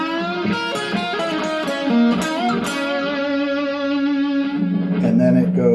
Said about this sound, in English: then we have this blues lick, which is the blues scale